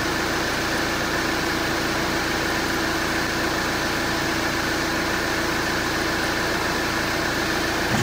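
A car engine idles steadily and loudly up close, a constant droning hum with no change in pitch and no talking.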